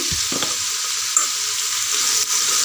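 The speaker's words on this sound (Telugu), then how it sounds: "ఇలా కలుపుకొని సొరకాయ ముక్కలు కాసేపు మగ్గనివ్వాలండి" Bottle gourd pieces being stirred with turmeric in a hot pan give a steady bright sizzle, with a few soft scrapes of the spoon near the start and no talking.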